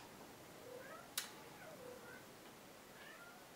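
A housecat meows softly a few times, drawn-out rising and falling cries at moderate distance in a quiet room, with one sharp brief click or tap partway through.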